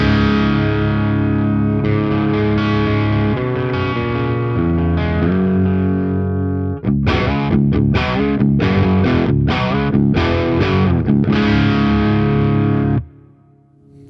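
Distorted electric guitar through a Mooer Preamp Live pedal preset plays a sustained chordal passage, then choppy staccato stabs, loud and close, ending with a ringing decay.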